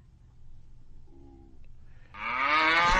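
A single long, low cow moo swells up near the end after a quiet stretch with faint background noise.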